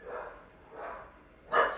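Puppies barking from another room downstairs, a few faint, muffled yips spaced apart, the last one sharper and somewhat louder, distant beneath a quiet room.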